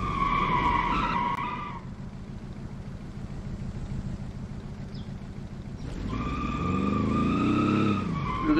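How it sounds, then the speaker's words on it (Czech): A Fiat car skidding in BeamNG.drive, tires squealing in two bursts at the start and end with a steady engine and road drone between, loud and close. "chci udělat smyk, tak to půjde."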